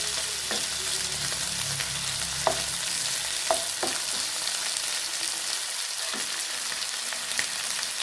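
Pre-boiled chicken pieces hit a hot pan with garlic and onion, giving a steady, close sizzle and frying hiss throughout, with a few light clinks of stirring.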